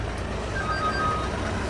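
A truck's reversing alarm sounds a few short, high electronic beeps over the low hum of the idling vehicle, close by and fairly clear.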